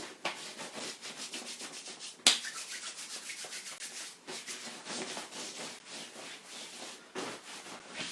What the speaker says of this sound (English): So rubbing our hands together, and back to the hands and up the arms.